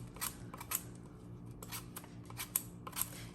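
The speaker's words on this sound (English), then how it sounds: "I'm just going to use a peeler. I'm just gonna peel the apples." A vegetable peeler strips the skin from apples, giving soft, quick scraping strokes in an irregular rhythm, faint and close with no talking.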